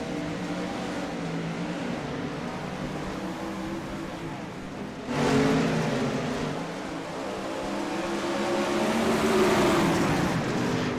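Open-wheel race cars at a dirt oval rumble past at the green flag start of a heat race. A steady engine drone swells louder at the midpoint as the pack passes, then builds again toward the end.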